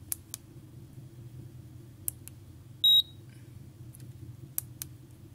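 A single short electronic beep from an ATmega32-based snake game, sounding as the snake eats food, rings out over a steady low hum, with a few faint clicks scattered before and after.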